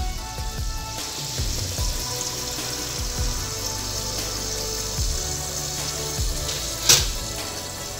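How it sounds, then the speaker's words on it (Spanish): Water runs into a metal pot, a continuous splashing rush with small clanks and one sharp knock near the end, steady and close. "procederemos a llenar la olla con agua"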